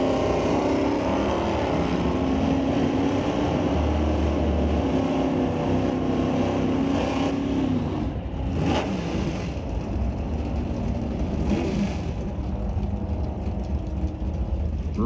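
Fox body Mustangs, a 1979 hatchback and a convertible GT, race down a drag strip at an NHRA Canadian event, engines revving hard in a continuous loud roar with sharp bursts as the cars accelerate away.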